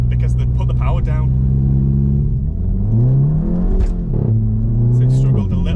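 A VW Golf GTI MK7.5 fitted with a Remus exhaust accelerates hard, its engine note climbing through the revs with a deep rumbling tone heard from inside the cabin while someone talks over it.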